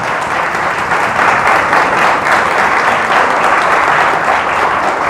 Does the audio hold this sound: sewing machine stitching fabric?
no